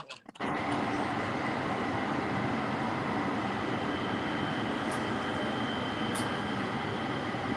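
Metro E line train pulling into Expo Crenshaw Station, a steady loud rumble of wheels and carriage noise with faint squeals, preceded by a brief knock.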